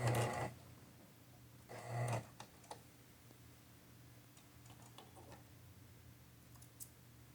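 A sewing machine backstitching the seam of a 1950s dress, two short bursts of fast needle whirring followed by faint ticks and clicks, quiet and close with no talking.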